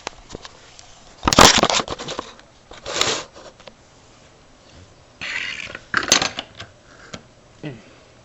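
A scooter is turned over to fit a nut onto a long bolt for compression installation, producing several bursts of close metallic clatter and scraping separated by quiet pauses.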